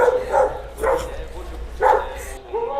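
Several dog barks in short bursts with a person's voice talking over them in Turkish, somewhat close by.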